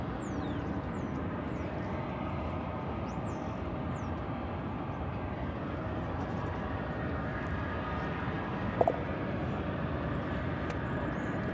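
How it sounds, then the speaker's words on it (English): American Airlines Airbus A319 arriving at DFW Airport from Lubbock, a continuous broad engine roar with a steady hum that holds at a moderate level throughout, with faint bird chirps high above. "Here comes American Airlines Flight 687, which took off from Lubbock in Texas about 46 minutes ago"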